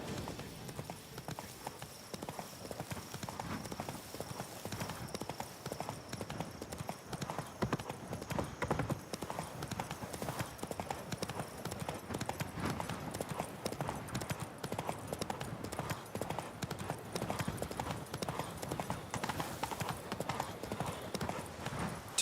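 Horse hooves clip-clop steadily at a brisk riding pace in The Witcher 3, with a continuous rhythmic beat over background game ambience and brief spoken lines.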